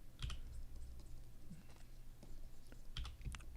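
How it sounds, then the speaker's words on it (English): Fingers type on a mechanical computer keyboard in quick bursts of crisp key clicks, close and fairly quiet, with short gaps between flurries. "I like the keyboard sound."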